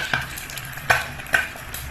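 Food fries in a little olive oil in a pan, a soft sizzle underneath with three or four sharper scrapes or clinks from stirring standing out at intervals, and no talking.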